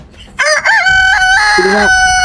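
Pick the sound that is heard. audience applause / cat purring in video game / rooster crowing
rooster crowing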